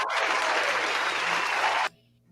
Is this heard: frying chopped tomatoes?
no